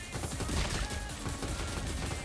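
Heavy cannon fire from the Star Havoc video game, a dense, continuous barrage of loud booming shots with no gaps across the whole stretch.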